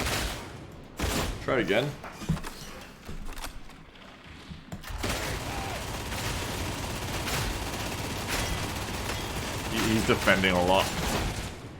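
Gunfire in Warhammer 40,000 Darktide comes as a sustained burst of rapid shots emptying a magazine, loud and continuous through the middle, with a few separate sharp shots earlier and people talking over it.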